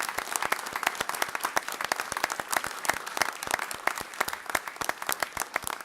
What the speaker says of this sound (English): And so let's give a round of applause.